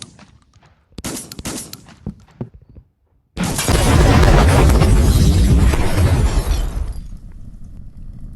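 A building being destroyed in a physics-based demolition video game, with sharp cracking impacts followed by a long loud rumbling collapse of shattering debris that cuts off suddenly.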